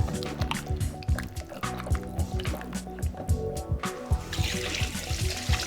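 Clams being stirred into a pot of thick clam chowder make close, wet sloshing and squelching with irregular liquid splashes and drips, loud and busy with no talking.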